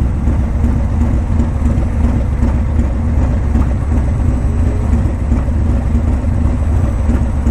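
Motorcycle engines rumble on a ride through Daytona, a loud, steady, low drone of engine and road noise that stays constant throughout with no talking.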